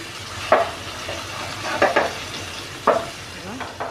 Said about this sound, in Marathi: आता आपल्या निवटी फ्राय झालेल्या आहेत.